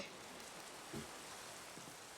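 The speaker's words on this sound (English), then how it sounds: "It's raining." Soft, steady rain in a Minecraft-style video game patters throughout, a faint even hiss of drops with a couple of slightly louder taps.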